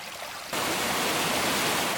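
Waterfall at Panther Creek Falls in Georgia, a loud, steady broadband roar of falling water that swells abruptly partway through and then holds constant, with no voices.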